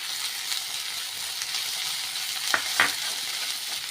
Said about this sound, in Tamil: இந்த எண்ணெயிலே இந்த வெஜிடபிள்ஸ் எல்லாம் குக் ஆகட்டும்